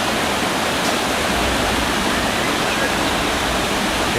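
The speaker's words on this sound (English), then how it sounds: "You can see the waterfall." A waterfall on a river beside a trail roars with a steady, broadband rush of falling water that fills the scene evenly and continuously, with no clear voices over it.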